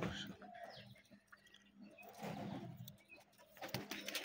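Pigeons, including a red Bombay pigeon, coo in a home pigeon farm, soft repeated low calls rising and falling over several seconds with a little rustling around them.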